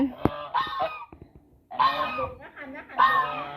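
Farmyard geese at a rural home honk close by in three bursts of loud, nasal calls, with a short quiet gap between the first and second burst.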